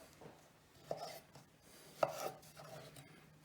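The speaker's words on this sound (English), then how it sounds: "So we're going to chop a lovely Roma tomato" A knife chops a Roma tomato into small cubes on a board, with a couple of soft, close cuts and light scraping at low volume, no talking.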